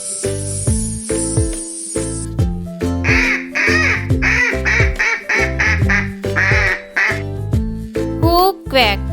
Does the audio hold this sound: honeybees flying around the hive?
no